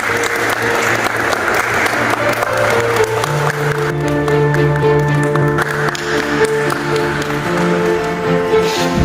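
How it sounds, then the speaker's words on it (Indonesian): Sustained applause from an audience at a school Youth Pledge commemoration, dense clapping filling the room for several seconds while music and a sung note carry on underneath. "Beri tepuk tangan sekali lagi kepada."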